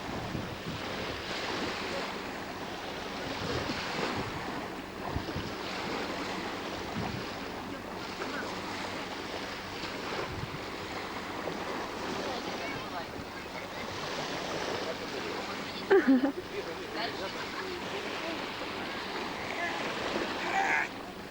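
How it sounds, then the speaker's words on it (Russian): Surf breaking on the Sea of Azov shore in 2000, a steady, fairly loud wash of waves mixed with wind buffeting the microphone, with a brief knock near the end. "Азовское море."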